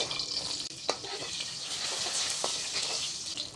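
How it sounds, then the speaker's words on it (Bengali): Yardlong beans and whole dried chilies fry lightly in a pan for Chinese-style chicken, a close sizzle with a few sharp stirring scrapes and knocks. "বরবটি আমি বেশিক্ষণ ফ্রাই করব না জাস্ট হালকা ফ্রাই করে নিচ্ছি তারপর এখানে কটা শুকনা মরিচ দিয়ে দিচ্ছি আস্ত শুকনা মরিচ"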